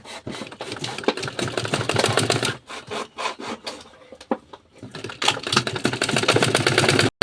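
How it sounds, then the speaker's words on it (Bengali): A sewing machine stitching pyjama fabric runs in two fast, steady rattling bursts, close and loud, split by a short pause of lighter fabric handling. "এখান থেকে সেলাই দিয়ে দেব।"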